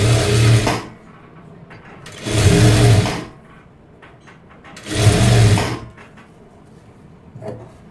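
A sewing machine stitches a puff-sleeve blouse in three loud, even runs of about a second each, separated by quiet pauses, with a short faint fourth burst at the end.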